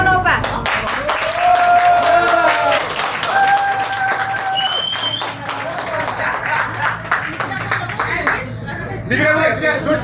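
An audience claps aboard a river boat on the Moscow River, loud dense applause running almost the whole time, with crowd chatter and voices mixed in.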